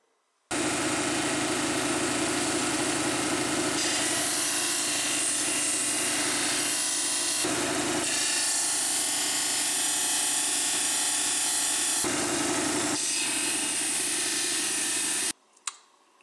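A greenstone piece is pressed against a spinning 280-grit polishing wheel, giving a loud, steady mechanical whir that runs continuously for about fifteen seconds before cutting off abruptly.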